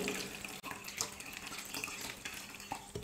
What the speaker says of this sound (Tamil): இப்போ உருளைக்கிழங்குல பச்சை தண்ணியை சேர்த்து வடிகட்டிடுறேன்.